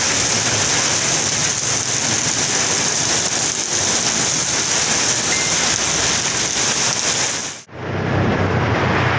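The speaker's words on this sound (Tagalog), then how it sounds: "Inaabot ako na ulan mga kabrok." Steady rain falls outdoors as a dense, continuous hiss that fills the scene, briefly cutting out near the end before resuming.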